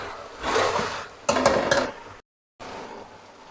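Okra and green chillies are stirred in a cooking pan, the spoon scraping and clattering against the metal in two busy bursts before a brief silence and more soft scraping.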